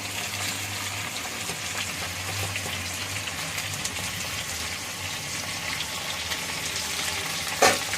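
Flat beans fry in oil with salt and turmeric, making an even, moderate sizzle that runs steadily, broken near the end by a brief sharp clatter, with no speech.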